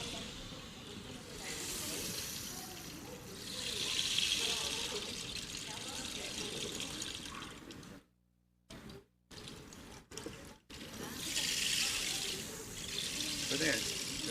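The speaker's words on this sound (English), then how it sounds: "I invite you to each turn the rain sticks and make the sounds of running water." Several rain sticks turned together at a bridging ceremony make a rushing, hissing cascade like running water. The sound swells and fades and breaks off briefly, with people talking under it.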